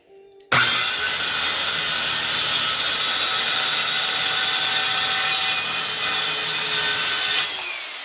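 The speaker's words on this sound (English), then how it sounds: "stops the wood from pinching on your saw blade as you're cutting along" A circular saw running along a rear guide, cutting through wood; the loud, steady whine starts abruptly and holds for about seven seconds before the blade begins to wind down.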